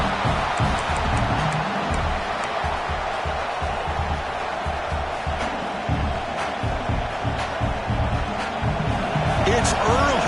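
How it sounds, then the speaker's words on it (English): A college football stadium crowd at a Texas A&M versus LSU game roars steadily throughout, with sharp thumps and cheers, partly under a commentator talking over it. "this crowd is fired up. Listen to this noise here."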